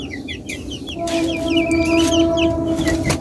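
Tiger chickens and farm chickens in a poultry house cluck in quick, overlapping bursts close by, with a sustained drawn-out call from one bird running underneath.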